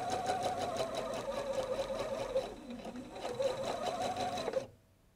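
Sewing machine chain piecing quilt patchwork, stitching fabric pieces on without cutting the thread; a steady, close, rapid mechanical whir that briefly slows mid-run, then resumes and stops abruptly near the end.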